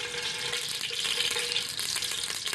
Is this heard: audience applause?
no